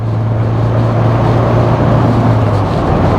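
Mahindra Scorpio Classic engine pulling hard in fourth gear at highway speed, a steady loud low drone with a sustained low tone through most of the stretch, no talking.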